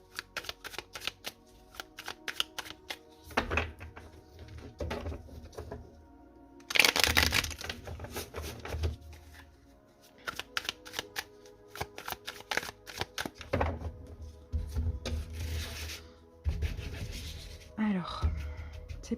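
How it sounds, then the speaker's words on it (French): Tarot and Lenormand cards shuffled and laid out during a reading for Aries, with repeated bursts of riffling and slapping onto a surface, some loud flurries and quieter rubbing in between, no voice. "Je vais poser les cartes."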